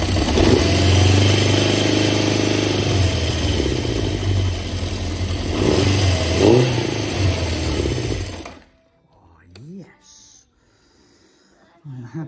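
A 1978 Honda CB750 motorcycle engine with long HT leads and a bit of choke runs loudly and steadily for about eight seconds, then cuts out abruptly, leaving only faint handling noises.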